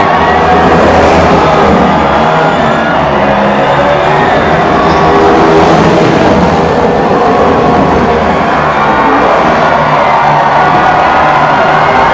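Dale Earnhardt Jr.'s stock car spins donuts on the front straightaway at Michigan after the 2012 Quicken Loans 400, its engine roar blended with a loud, cheering crowd in a dense, continuous wash of sound.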